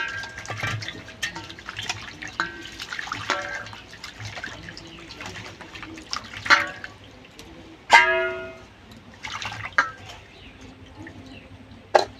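Water pours and splashes over dried loitta fish being washed in a bowl, with uneven trickles, drips and a few louder sloshes and clatters, heard close up.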